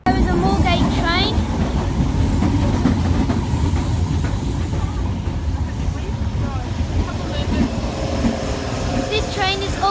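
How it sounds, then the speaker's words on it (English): A Great Northern train to Moorgate from Welwyn Garden City pulls into Winchmore Hill station, giving a steady loud rumble with some squeals and wind buffeting the microphone, and no speech. "There is a Moorgate train."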